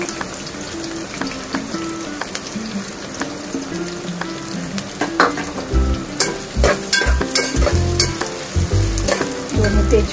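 Chopped onions and curry leaves frying in well-heated oil in a pan, a loud crackling sizzle with repeated scraping stir strokes and metallic knocks that grow busier toward the end.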